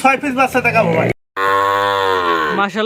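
At a cattle sale, a cow lets out one long, loud, nearby moo after a burst of lively sound that may be talking, with a brief silence between them.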